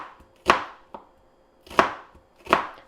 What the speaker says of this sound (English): I am just thinly cutting up the onion along the rings.